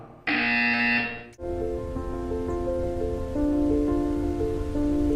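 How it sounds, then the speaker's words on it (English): A loud, harsh buzzer in Portal 2 blares for about a second, then cuts off into a steady electronic tone with shifting pitches. "You will hear a buzzer."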